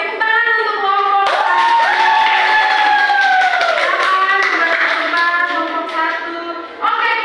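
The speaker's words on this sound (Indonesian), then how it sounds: "tepuk tangan untuk kelompok" Classroom group clapping for a presenting team during a microteaching session, a short burst of hands from a small crowd with voices and chatter running over it.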